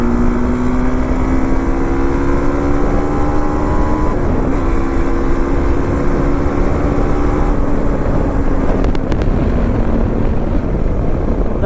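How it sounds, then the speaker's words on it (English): TVS Apache RTX 300 motorcycle pulling hard from 4th gear on an open road, a steady engine drone climbing in pitch with a brief dip near four seconds, buried under heavy, constant wind roar. "let's do a pull on the TVS Apache RTX 300 from 4th gear itself"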